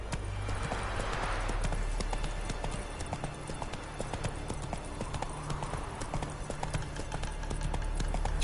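Roach the horse gallops in The Witcher 3, a fast steady clip-clop of hooves close and continuous throughout, with a faint bit of game ambience beneath.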